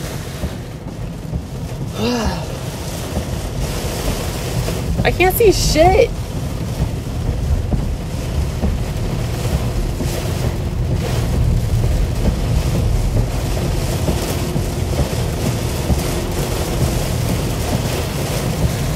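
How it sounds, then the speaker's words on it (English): Heavy pouring rain makes a dense, steady hiss throughout, with a person speaking briefly over it near the start. "it starts like pouring down rain"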